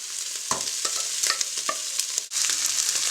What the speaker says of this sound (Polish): I mieszam wszystko razem, bardzo dokładnie.